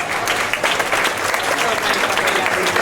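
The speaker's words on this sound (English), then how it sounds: "A nice round of applause." A cruise ship audience on the Diamond Princess applauding the captain at a farewell party, dense sustained clapping from a large crowd, loud and continuous throughout.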